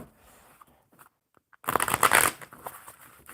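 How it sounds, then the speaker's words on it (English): Tarot cards are shuffled by hand in a quiet room: after soft faint handling, a loud burst of rapid riffling flutters for about a second, then eases into lighter card handling. "one more good shuffle"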